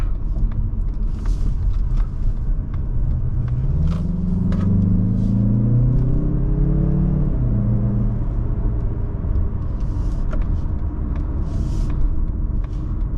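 A 2024 Mazda CX-30 Turbo Premium cruising on a back road, with a steady low engine and road rumble and tire noise throughout, a rising then falling engine note in the middle, heard from inside the cabin.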